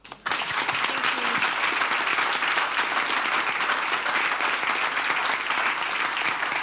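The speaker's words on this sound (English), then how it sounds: "please clap too loudly for Katya." Audience applause for speaker Katya at a FinOps conference session, sustained and dense from start to finish, loud and steady with no voices over it.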